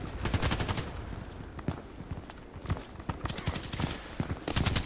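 416C rifle gunfire in the shooter game Contract Wars: several rapid automatic bursts separated by short pauses, loud and close, with faint footsteps between volleys.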